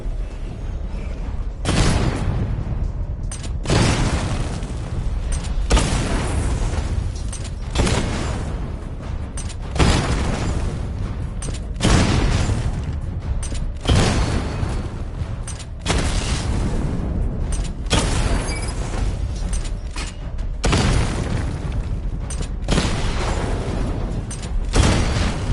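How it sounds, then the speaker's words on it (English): Heavy, repeated bursts of Batmobile missile barrage fire in Batman: Arkham Knight, a long string of loud booming volleys with rumbling mechanical whirs between them and no talk. "Charge the missile barrage to level 2 to destroy up to 4 targets at once."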